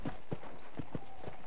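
A horse's hooves clip-clop in the Western video game Red Dead Redemption, about six evenly spaced, fairly soft thuds in a walking rhythm, close and alone.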